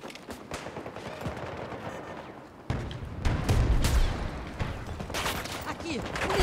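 Rapid bursts of PBX-45 gunfire in the video game Battlefield 2042, dense and loud, with a heavier stretch of shots and booms later on, under excited talk from a player.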